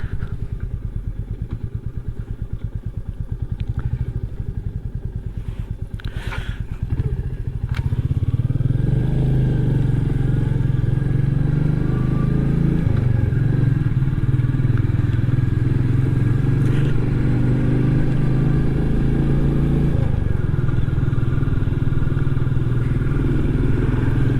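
A Royal Enfield Meteor 350, freshly valve-adjusted and fitted with a modified air filter, thrums steadily while being ridden, its single-cylinder drone loud and continuous with clattery bumps and a swell in level partway through.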